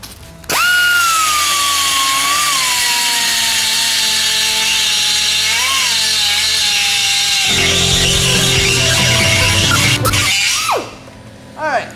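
Well-worn cheap carbide burr in a rotary tool grinding metal, a loud steady high whine with shifting pitch that drops in load midway, running close for about ten seconds before spinning down.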